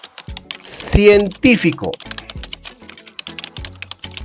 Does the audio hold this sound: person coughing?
no